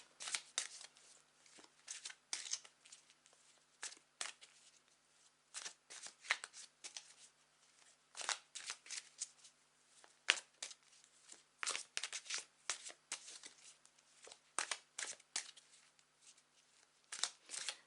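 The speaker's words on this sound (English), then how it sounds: "So let me grab my tarot and clarify those messages." Tarot cards are shuffled close by in repeated quick, crisp riffles and flutters, separated by short pauses and fairly soft overall, with no talking.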